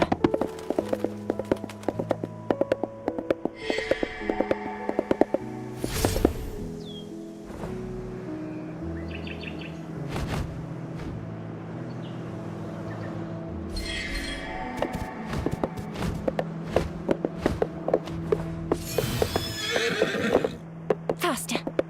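A steed in a game gallops with rapid hoofbeats, and loud whinnies and neighs rise above layered music and ambient noise; a voice talks at moments.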